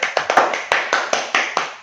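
Several people clap hands together in a short burst, about eight or nine sharp, distinct claps in a loose, uneven rhythm, fairly close and loud, with no talking over them.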